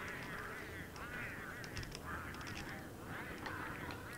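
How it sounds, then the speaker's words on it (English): Penguins in the video game Don't Starve: Reign of Giants squawk and honk in a dense, overlapping flock chorus that pulses in waves over a steady bed of game noise. "Okay, you penguins are getting really pesky."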